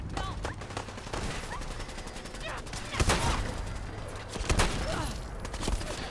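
Gunfire from the video game Fallout 4, rapid bursts of shots with sharp cracks rising and falling over a busy game soundscape, while someone talks over it now and then.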